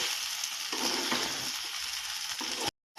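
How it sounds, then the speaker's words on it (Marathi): Sabudana khichdi sizzles and crackles steadily in a pan over full heat as it is stir-fried, a dense, continuous frying hiss with occasional stirring scrapes, close and clear, ending abruptly. "आता ही 5 ते 10 मिनटं चांगली मी परतून घेणार आहे।"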